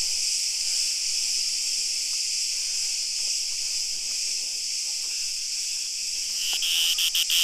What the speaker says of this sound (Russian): Очень шумно из-за сумасшедших насекомых.